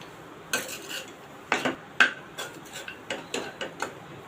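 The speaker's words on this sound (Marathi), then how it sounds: "आपण भाजी चांगली मिक्स करून घेऊया" A spatula clinks and scrapes against a pan while potato bhaji for a fasting meal is mixed over low heat, a series of irregular metallic taps and scrapes, close and moderately loud, with no voices.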